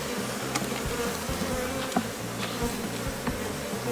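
Honey bees buzz in a dense, steady swarm around an opened beehive while a colony is being split by a natural method, with occasional louder passes of individual bees close by and no talking.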